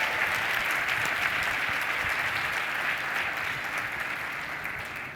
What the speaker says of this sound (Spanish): Dele un aplauso fuerte a Cristo con todo su corazón